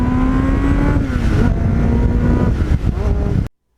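Loud, close engine note from a 1989 Kawasaki GPX750R motorcycle fitted with a Muzzy muffler, a sustained rumble that wavers slightly in pitch for three and a half seconds, then stops sharply into silence.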